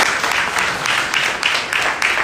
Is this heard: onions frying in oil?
no